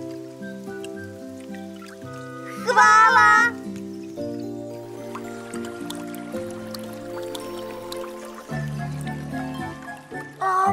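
Cartoon water dripping effect, a short bright burst partway through the scene that stands out over steady background music, with voices talking around it.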